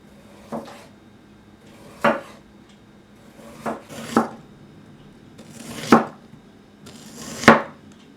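Knife slicing an onion into half rings on a cutting board, six separate crisp strokes spaced about a second or more apart, close by, with no talking.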